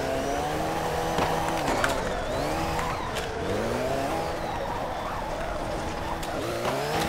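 Car drifting in CarX Drift Racing Online, with continuous engine revving and sliding tire squeal that rises and falls in pitch, loud and steady throughout.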